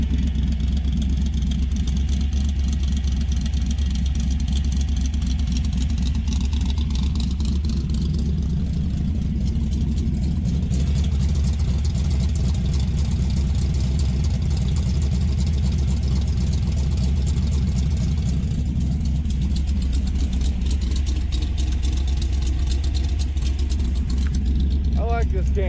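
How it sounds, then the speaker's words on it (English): A 1966 Dodge Dart GT with a 273 V8 and a big Mopar NASCAR cam idles steadily, a deep low rumble holding loud and close throughout with a voice talking over it. "let her warm up, and we'll idle her down just a little bit"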